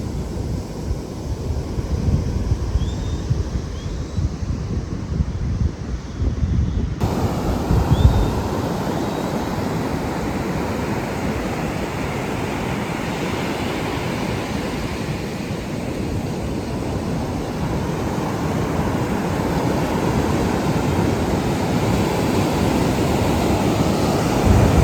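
Ocean waves rolling in at the seafront in Agadir, Morocco, a steady broadband wash of surf with wind buffeting the microphone, continuous and fairly loud with no talk.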